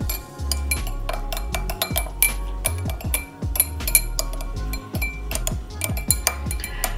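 A spoon clinks and scrapes against a glass or cup while stirring suspected fake caviar in boiling water, giving repeated bright taps in an irregular rhythm, close and fairly loud, with no talking.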